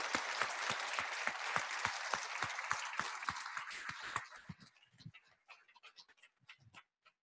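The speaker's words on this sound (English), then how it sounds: "can we give all a big round of applause?" Audience applause after a keynote talk at a college, dense and steady clapping from a crowd that thins out into scattered individual claps before stopping.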